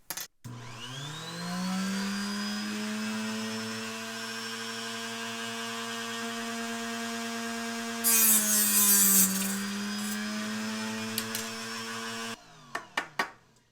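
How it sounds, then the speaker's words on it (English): A power saw cutting an arrow shaft whines steadily, then strains and drops in pitch as it slows and bogs down from too fast a cut, recovering briefly before stopping with a few clicks. "show you too fast of a cut, and you'll hear the saw bog down"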